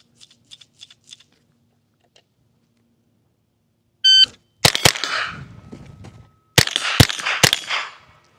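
Pistol shots hitting steel plates on the Outer Limits stage of a Steel Challenge match: a shot-timer beep, then two quick strings of sharp, loud cracks, each followed by a brief metallic ring from the struck steel.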